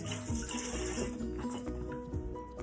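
Running kitchen tap while hands are washed after handling raw seafood, a steady close splashing of water streaming into a sink, with no talk.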